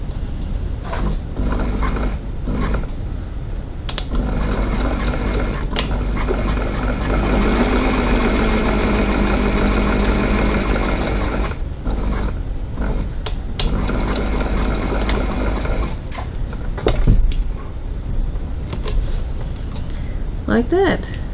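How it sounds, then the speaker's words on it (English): A sewing machine top stitching a leather coin pocket, a continuous mechanical hum and whir running in long stretches with short pauses, heard under a person talking. "Just top stitch this left hand side of my coin pocket."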